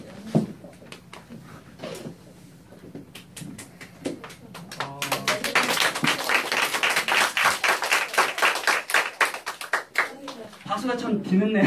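Audience applause from a skincare product seminar builds from scattered claps into a dense, steady round of clapping lasting several seconds, loud and close, with a few voices talking over it.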